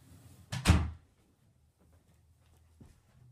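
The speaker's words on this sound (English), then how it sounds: "I'm gonna close the door and I'll be right back." Someone closes a door indoors with a single fairly near thump and a quick rattle, then a quiet room follows with a faint knock near the end and no talk.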